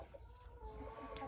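Backyard hens at a dacha cluck softly near a feed trough of shell grit, a steady low clucking continuing throughout the brief moment with no voices.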